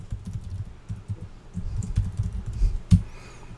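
Password being typed on a computer keyboard: a quick, uneven run of close key clicks and taps over several seconds, ending with one firmer keystroke.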